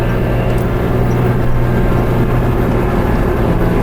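A tractor engine drones steadily while driving, a constant loud mechanical hum with a low rumble and no break across the whole stretch.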